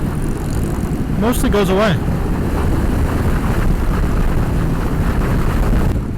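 Indian Scout 101 motorcycle cruising at about 45 mph, a steady engine drone mixed with wind rush held constant throughout, with someone talking over it.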